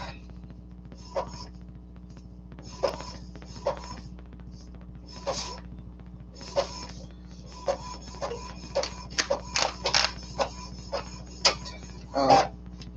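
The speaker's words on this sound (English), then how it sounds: "So we're just gonna print that all out." An Epson 2720 inkjet printer running out its leftover ink, with a steady low mechanical hum under repeated short clicks, whirs and head movements in an irregular rhythm, close and fairly quiet.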